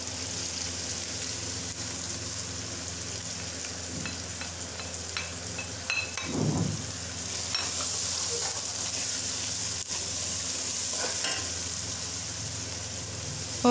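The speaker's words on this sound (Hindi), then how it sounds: "अब हम इसमें टमाटर ऐड करेंगे, हिलाएंगे इसको थोड़ा, और साथ ही साथ इसमें हम जो पिसे हुए हमारे मसाले थे सारे वो ऐड करेंगे।" Tomatoes and ground spices sizzle and hiss in a pan for potato curry, with a steady frying crackle and the scrape of stirring breaking in partway through, no one speaking.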